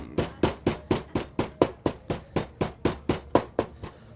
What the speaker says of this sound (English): We're just tenderizing the meat up a little bit.